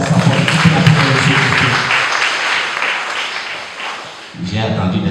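Church congregation clapping and cheering, a dense wash of applause that fades toward the end before voices return over a low background.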